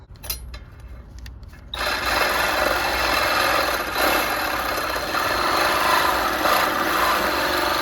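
A battery-powered hacksaw cuts metal at a junkyard during removal of a B18 transmission. A few quiet clicks come first, then a steady loud rasping saw stroke continues close by until the end.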